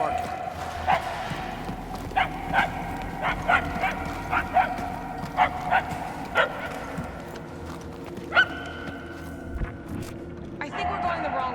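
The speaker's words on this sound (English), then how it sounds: "We are no closer to the source of the barking." Sharp yips and barks from a dog in the Guardians of the Galaxy video game, about a dozen short calls scattered at a middle distance over steady game ambience, with a brief whimper-like tone near the end.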